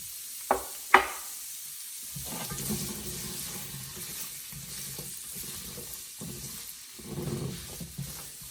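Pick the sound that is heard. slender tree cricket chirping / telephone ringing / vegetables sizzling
vegetables sizzling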